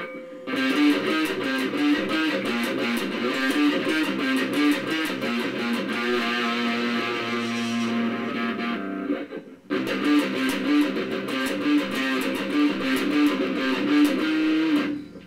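Heavily distorted Ibanez GRGA42TQA electric guitar, played on its H4A pickup alone, plays chugging chords and riffs, loud and continuous, with a short pause before the riff returns.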